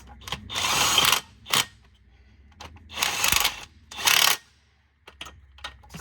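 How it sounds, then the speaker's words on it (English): A ratchet torques the cylinder head bolts on a Volvo 240, giving several bursts of close, rapid clicking separated by short pauses, with no talking. "We'll just carefully torque these head"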